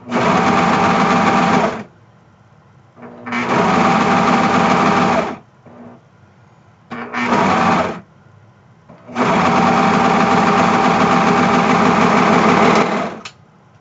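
Serger sewing machine stitching fabric in four loud, fast, buzzing bursts of a few seconds each, separated by short quiet pauses.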